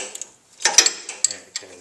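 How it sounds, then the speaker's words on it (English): A ratchet loosening a nut on the pump of a 724 loader on a Ford 841 tractor, giving a few quick close metallic clicks in short uneven bursts. "I'm going to slip my ratchet on there. Loosen it that way."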